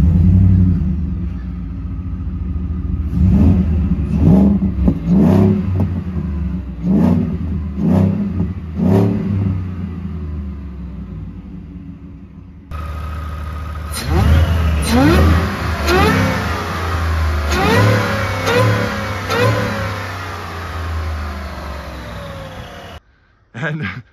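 A 2022 Ford F150 Shelby with 775 horsepower revs repeatedly through dual exhaust cut out into the bumper, a series of deep rumbling throttle blips, loud and close, then a longer run of revs after a brief pause.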